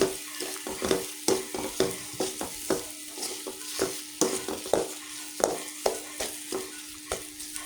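Mashed potatoes with turmeric powder fry in a pan, stirred in a steady rhythm. Regular scraping strokes sound about twice a second over a soft, close sizzle.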